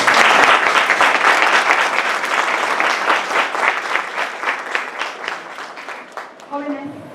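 A large audience claps loudly and steadily at a closing-day gathering, the dense applause thinning toward the end as a voice begins to speak.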